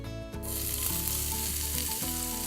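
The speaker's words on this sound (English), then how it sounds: "Hear that sizzle?" Loud, steady sizzling of onion frying in hot oil in a Le Creuset pot for beef keema, close up, with a brief shift as the pan is stirred.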